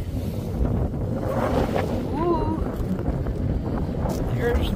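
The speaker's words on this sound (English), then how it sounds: "There's the wind." Strong wind buffets the microphone in a continuous roar over water and waves, with a voice briefly audible in the background.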